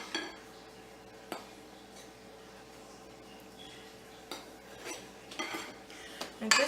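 Flour being stirred into French bread dough in a mixing bowl, with a steady soft scraping and several sharp clinks of a utensil against the bowl, growing louder toward the end.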